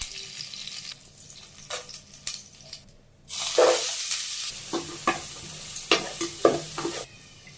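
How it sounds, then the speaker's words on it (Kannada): Mustard seeds and chana dal sizzling in hot oil for a ridge gourd chutney tempering, starting as a quieter crackle, then flaring into a louder close sizzle with repeated sharp pops and spurts. "ಎಣ್ಣೆ ಚೆನ್ನಾಗಿ ಕಾದ್ಮೇಲೆ ಸ್ವಲ್ಪ ಸಾಸಿವೆ, ಹಾಗೆ ಸ್ವಲ್ಪ ಕಡಲೆಬೇಳೆನ ಹಾಕ್ಕೊತೀನಿ."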